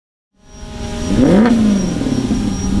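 A Maserati engine swells from silence into a loud, close acceleration on a drag strip, the revving pitch climbing and then holding steady as the car pulls away.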